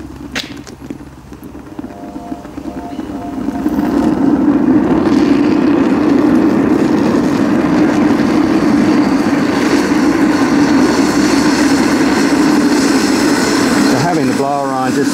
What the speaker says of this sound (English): I'm going to turn the blower back on.